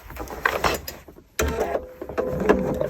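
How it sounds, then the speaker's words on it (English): A sewing machine stitches bias binding with a 1/4 inch seam on a tote bag, running in short mechanical bursts with a brief pause midway, close and fairly loud. "I'm just going to sew with a 1/4 inch seam"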